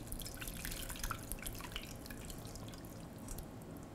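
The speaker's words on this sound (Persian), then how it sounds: "حالا آبش رو صاف میکنم، میریزم روش" Strained cooking liquid from braised lamb shank dripping and trickling as it is poured over the meat, a steady close splashing patter at moderate level with no talk.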